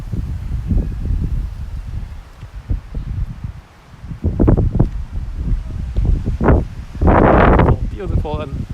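Gusty wind buffeting the microphone in loud rushing bursts outdoors in Tokyo, Japan, with people talking intermittently nearby.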